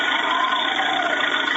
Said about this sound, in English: I know what that is. That's the sound of a tractor.